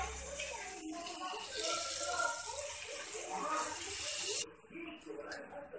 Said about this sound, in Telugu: ఇట్లా ఆయిల్ వేడైందండి, ఇప్పుడు పునుగులు వేసేసుకుందాం.